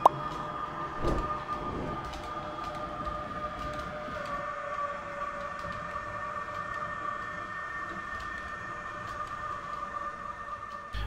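An H0 scale model railway train runs steadily on a layout, a continuous rolling hum with a faint high whine and a few clicks, heard alone without talk.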